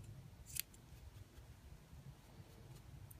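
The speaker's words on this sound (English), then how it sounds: "You basically just trim it into the shape you need." Scissors trimming a yarn pom pom made on a fork, with one crisp close snip followed by faint quieter cuts over a low hum, no voices.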